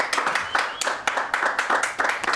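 A studio audience applauds for comedians Josh Blue and Ron White, with dense, steady clapping from many hands, fairly close and loud and sustained throughout without a break.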